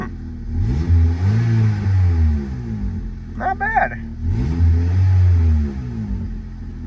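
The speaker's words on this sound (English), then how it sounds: "Hey, let's do a little rev." Engine revs from a slammed Honda Civic ES1 with a new exhaust, two deep rising-and-falling revs close by, with people talking briefly in between.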